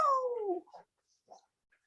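A cat named Banana gives a single clear, falling meow up close, followed by a couple of faint, brief sounds in an otherwise quiet room.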